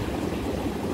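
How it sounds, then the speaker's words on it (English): Water pumps into a homemade hot tub with jets, a steady close rushing and churning like a small stream, even and unbroken with no voices. "it's pumping in slightly colder water now"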